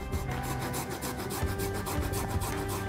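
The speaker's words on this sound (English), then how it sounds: "And to grate our ginger, I'll just do it right on the cutting board" Fresh peeled ginger is rasped on a microplane grater over a cutting board, a close, steady scraping rub repeated in quick strokes with no talking.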